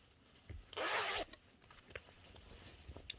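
A zipper on a handmade DIY pouch is pulled in one quick, loud rasping stroke lasting about half a second, followed by faint rustling and handling noises; no one speaks.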